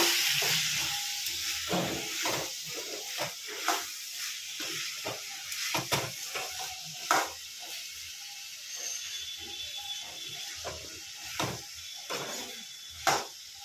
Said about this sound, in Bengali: এটাকে একটুখানি ফ্রাই করে নিচ্ছি